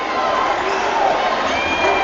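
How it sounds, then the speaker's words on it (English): Crowd at a high school state championship basketball semifinal cheering and roaring, a dense steady wall of voices filling the gym throughout without letup. "2-point game gets the crowd back on their feet"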